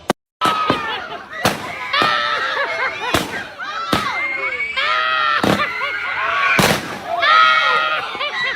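Fireworks go wrong in a chaotic burst of sharp bangs and pops, roughly half a dozen loud cracks spread unevenly through the stretch, mixed with shrieks or excited voices in between.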